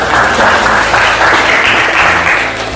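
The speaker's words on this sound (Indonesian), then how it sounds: "Ya, tepuk tangan." Audience applause at a teacher-training class session, a steady dense wash of clapping sustained loudly and evenly throughout, with no talk over it.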